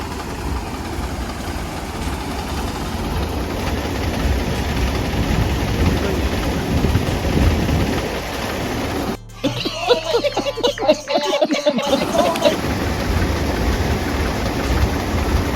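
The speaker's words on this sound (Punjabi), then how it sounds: "ਜੱਗੀ ਬਾਈ ਚਲਾ ਰਿਹਾ ਮਸ਼ੀਨ" A combine harvester works a rain-soaked soybean field in Madhya Pradesh, its heavy engine rumbling and idling steadily nearby, with a burst of clattering, rattling mechanical noise in the middle before the drone resumes.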